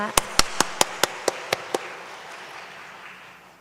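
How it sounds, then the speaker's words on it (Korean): A church congregation at a retreat claps eight sharp, evenly spaced beats in unison, loud and close, leaving a soft room murmur that fades afterward. "박수 한 번 더 올려드리겠습니다."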